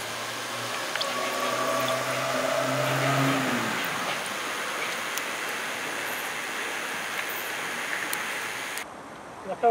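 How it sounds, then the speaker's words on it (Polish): Water gushes from a hose into small rubber water balloons, a hissing, splashing flow for several seconds that eases off before a brief stop at the end. "Napełniam akurat baloniki z wodą."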